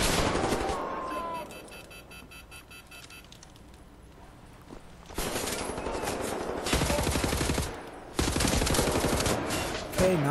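Assault rifle gunfire in the first-person shooter Wolfenstein: The New Order, loud rapid bursts of automatic fire in several stretches separated by quieter gaps, close and dominant, with game sound effects between bursts.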